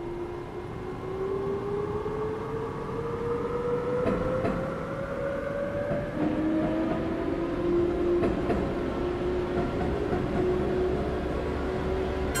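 Chuo-Sobu line local train pulling away from Iidabashi in Densha de Go, the electric motor whine rising steadily in pitch, dropping once at a notch change and climbing again, over rumbling wheels, close and continuous.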